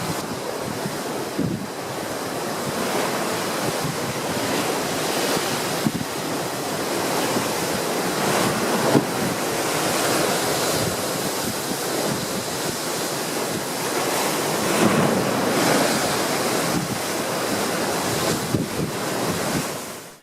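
Ocean waves surge into a rocky chute at Boca Ascension Park in Panama and burst into spray, a continuous loud roar of surf with swelling crashes and steady wind noise across the whole stretch, no voices.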